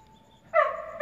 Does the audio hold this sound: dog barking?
yes